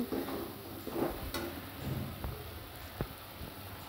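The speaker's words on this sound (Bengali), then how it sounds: "মশলাটা সুন্দর কষা হয়। মশলাটা কষানো হচ্ছে," Spice masala for a chicken curry fries in a pan with a little added water, giving a soft, steady hiss with scattered clinks and scrapes of stirring throughout.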